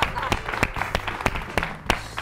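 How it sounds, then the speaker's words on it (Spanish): A few loud, distinct claps, roughly five or six in a loose rhythm, break out over close chatter during a guessing game on a Spanish-language show. "Aplausos"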